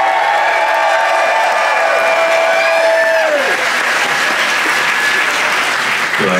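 A live concert crowd applauds and cheers loudly for a singer, with a dense sustained roar of clapping and whoops while a sung or sustained tone fades out early on.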